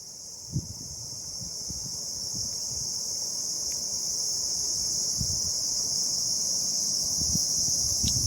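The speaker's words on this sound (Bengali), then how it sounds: "আর ঝিঁঝি পোকার শব্দ" Crickets chirp in a forest on Henry Island, a steady high continuous trill held at an even level throughout, with a few soft low thumps and rustles beneath it and no voices.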